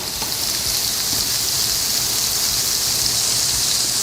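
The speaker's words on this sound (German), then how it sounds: "Dann etwas Butterschmalz in die Pfanne." Clarified butter sizzles and crackles in a hot frying pan while a Mosel-style dish of flour dumplings is cooked, a steady close hiss with dense spattering and no talk.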